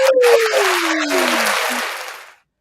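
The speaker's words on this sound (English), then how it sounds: "let's give a round of applause to our guest, Miss Tabitha C" Applause and cheering for a guest at the close of a talk show, a dense burst of clapping with a whooping voice gliding over it, fading out after about two seconds.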